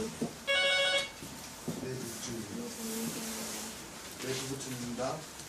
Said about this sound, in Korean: 딱 마치자마자 전화 오네